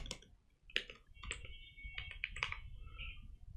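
Typing a terminal command on a computer keyboard in a Linux setup: a string of close, crisp key clicks in quick irregular bursts, with a short pause early on, against a quiet room.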